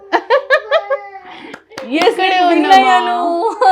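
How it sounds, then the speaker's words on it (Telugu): A few quick hand claps open the scene, followed by children giggling and laughing with lively chatter during an interview with young twin girls, all close and fairly loud. "క్లాప్స్"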